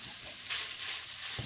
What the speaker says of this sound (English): I'm going to let these fry up for a minute or two